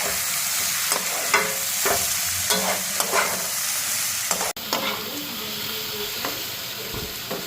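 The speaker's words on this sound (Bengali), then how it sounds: "তো ওইদিকে বাঁধাকপি, গাজর, পেঁয়াজটা ফ্রাই হয়ে গেছে।" Cabbage, carrot and onion sizzle steadily while being stir-fried in a pan, with repeated scraping and stirring clatters over a constant frying hiss.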